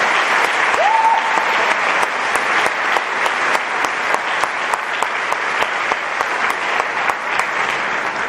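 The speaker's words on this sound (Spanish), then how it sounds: "Démosle un aplauso al Señor por su bondad." A church congregation at a Holy Hour service breaks into sustained, loud applause, dense clapping filling the room steadily from start to finish, with a brief whistle or cheer early on.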